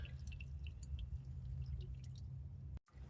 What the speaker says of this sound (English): Anytime you're draining the oil, don't go far.